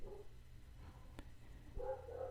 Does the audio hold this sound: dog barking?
yes